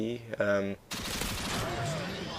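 Pulse-fired bursts from an F2000 rifle in Modern Warfare 2 team deathmatch ring out as a dense, loud rattle of rapid shots after a short burst of talk at the start.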